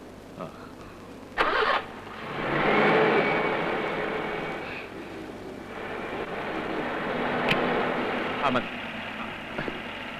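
A car engine catches and the vehicle pulls away, a steady rising motor hum that settles into a continuous drone, with a few sharp clicks and knocks along the way.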